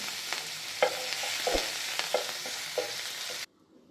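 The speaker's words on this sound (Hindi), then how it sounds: "इसमें मैं ये हरी मिर्च और धनिया भी 1 सेकंड के लिए भून लूँगी।" Hot oil sizzles steadily in a pan as green chilli and coriander fry while a spoon scrapes and stirs a few times, then the sizzling cuts off abruptly.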